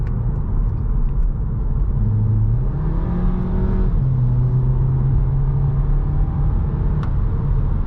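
Volkswagen Scirocco engine in the Forza racing game, revving up with a rising tone that climbs, holds, then settles into a steady drone, loud and continuous with no talk.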